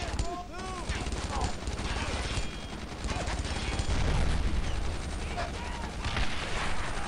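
Sustained gunfire in Brothers in Arms: Earned in Blood, with rapid machine-gun bursts and shots rattling steadily for several seconds as a tank is nearby, with some voices mixed in underneath.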